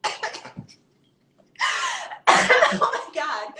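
A woman coughs in short harsh bursts, some with a sneezy or throat-clearing edge, separated by a brief silence, loud and close to the microphone.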